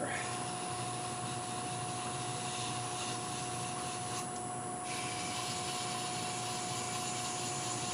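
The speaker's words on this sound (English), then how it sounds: "Let's sand this end a little bit here." A wooden scoop spinning on a lathe is sanded at one end, making a quiet, continuous rubbing hiss over the lathe's steady hum.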